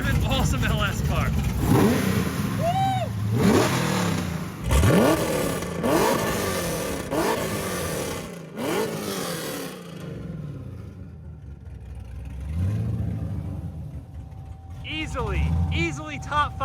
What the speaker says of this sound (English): Not only is this one of the best sounding LS cars we've got in here